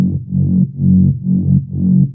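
A dark synth mid bass pulses in a steady rhythm, four rounded, swelling notes each rising and falling in loudness, warm and low with nothing above it and no voice.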